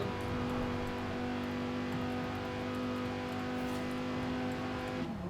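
The stock 2058 Quadra from Cyberpunk 2077, driven in the racing game Forza Horizon 4, gives a steady, sustained engine drone, held at a fairly even pitch throughout and cutting off sharply near the end, with no voices.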